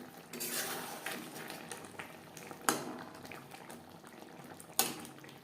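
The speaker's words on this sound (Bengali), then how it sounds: "সবজি সেদ্ধ হওয়া পর্যন্ত অপেক্ষা করব।" Vegetables simmer in gravy for a vegetarian bitter gourd curry, giving a steady bubbling hiss with soft clinks of a utensil against the pot and two sharper taps near the middle and end.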